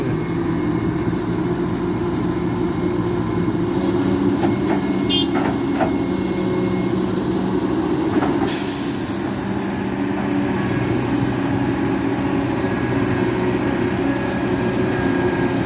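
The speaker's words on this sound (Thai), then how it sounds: "เสียงเครื่องเสียงปั๊มนี่ ดังชัดเจนมากครับ" A steady mechanical drone of a Kobelco SK200-10 excavator engine with a high, sustained hydraulic pump whine running over it, continuous and fairly loud throughout, with a few brief clanks.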